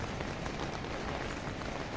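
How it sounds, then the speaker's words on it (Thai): Heavy morning rain pours down steadily in a dense, even hiss of drops striking surfaces. The downpour stays constant and close throughout, with no voices over it. "บรรยากาศฝนตกนะฮะเช้านี้ตกตั้งแต่ ตีสามนะครับ"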